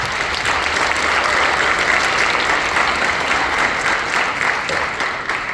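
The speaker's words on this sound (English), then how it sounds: "Please give them a round of applause as well." Audience applause at a Wilkes County, North Carolina, schools All County Honors Band concert: a full, sustained round of clapping from the crowd in a hall that stays loud and steady for several seconds before easing slightly.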